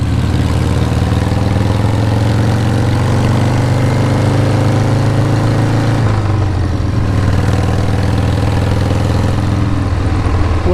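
A Harley-Davidson motorcycle with an FLH chassis and Sportster front end idles steadily up close, a deep, even engine rumble running throughout with a slight dip partway, no talking.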